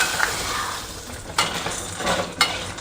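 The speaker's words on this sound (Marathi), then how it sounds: "आता हे सांडगे भाजून घ्या" Sun-dried lentil dumplings (sandge) roast in hot oil in a pan, a soft continuous sizzle broken by a few sharp scrapes and clinks of stirring.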